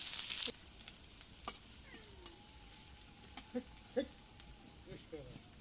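Onion frying in a pan gives a faint, low sizzle with scattered utensil taps, and a quiet cat-like mew is heard once or twice, all soft and somewhat distant.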